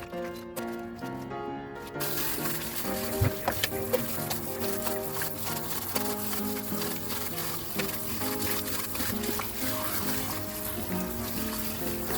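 Tap water rinsing salt and dish soap off fabric, a continuous gushing flow that starts after a short pause and runs steadily under background music.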